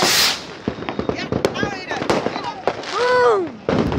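Fireworks go off outdoors: a burst of firecracker pops and crackles, then a rocket whistles up with a rising and falling shriek. Voices talk over them.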